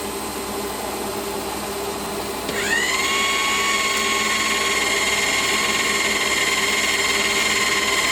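Milling machine feed motor starting up close by, a sharp rising whine that settles into a steady loud high-pitched drone over the machine's background hum.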